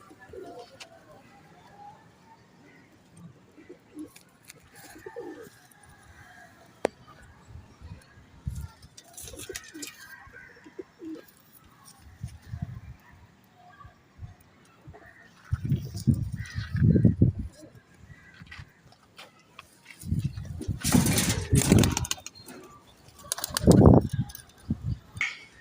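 Pigeons, including Teddy and Sialkoti females, coo softly in a loft, with low, throaty bursts that swell near the end, along with faint chirps and some quiet background talk.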